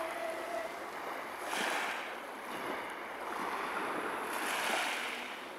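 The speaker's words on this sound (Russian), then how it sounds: "Такое ласковое море." Gentle sea waves wash onto a beach at Lazarevskoye, a soft continuous hiss of surf that swells and recedes in slow, even surges, with light wind noise and no voices.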